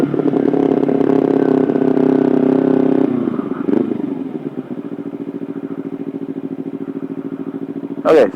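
A loud Kawasaki Ninja 300 motorcycle engine runs steadily, then drops to a lower chugging rumble as it turns, with a brief rev near the end.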